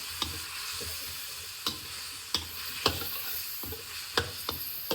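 A spoon stirs a soya mixture with red bell pepper in a frying pan, giving quiet irregular scraping clicks over a soft steady sizzle, with no voices.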